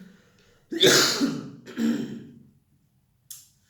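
Two harsh, throaty coughs in quick succession, close and fairly loud, followed by a brief sharp breath or click after a pause.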